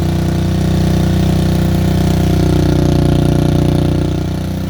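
A Honda Fourtrax 300 ATV with an aftermarket exhaust pipe idles steadily close by, a low, even engine rumble that holds constant throughout and eases slightly at the end.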